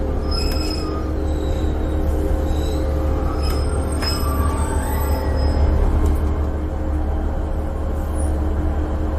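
A train pulls into Barry Island station with a steady loud rumble of wheels on track, and several high squeals and screeches ring out over the drone as it slows.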